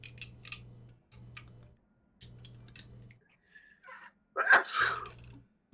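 One loud, close sneeze bursts out near the end, following quiet, intermittent talk over a low humming background.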